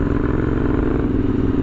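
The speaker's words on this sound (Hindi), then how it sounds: "इसके बाद बाइक स्टार्ट करनी है तो थोड़ी सी इंजन नॉकिंग या फिर इंजन में प्रॉब्लम होती है" A heavily modified Royal Enfield Interceptor 650 twin-cylinder motorcycle engine runs with a steady, loud, close-up rumble and a slight knocking clatter, with no voices.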